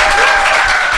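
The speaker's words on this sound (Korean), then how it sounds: "대단히 훌륭한 박수 한번 부탁드립니다." Audience applause at a talk show taping, a brief, loud and continuous wash of many hands clapping together with no pause.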